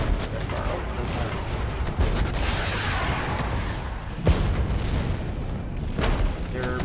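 Enemy artillery pounds an area in the war strategy game Regiments: heavy booms land over a constant roar of battle, with sharper impacts standing out around the middle and near the end.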